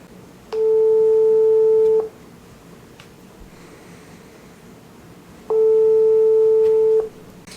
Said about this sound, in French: j'appelle Chouchou.